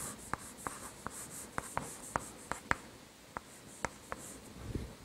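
A word being handwritten on a sheet of paper, heard as a series of short, scratchy pen strokes at an irregular pace, close and faint against a quiet room, with no speech.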